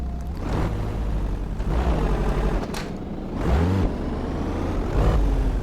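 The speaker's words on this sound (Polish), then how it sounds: "Silnik w dieslu, Dźwięki dosyć fajne." A diesel car engine in Euro Truck Simulator 2 revs up and down in bursts, a steady low rumble with rising whines, fairly loud and continuous with no talking.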